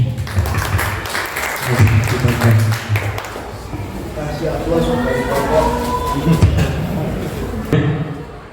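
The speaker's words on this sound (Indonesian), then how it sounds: "Kasih aplaus untuk kelompok Matahari." An audience at a school gathering at SMP Negeri 1 Kejajar applauds group Matahari, a burst of clapping at the start that fades under a voice talking.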